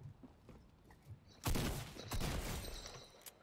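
Bursts of rapid Fortnite Battle Royale gunfire, fairly faint and distant-sounding, in two main volleys with scattered shots between them.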